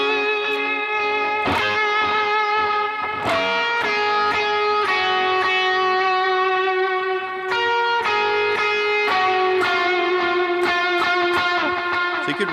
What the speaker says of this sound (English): let me throw some distortion on here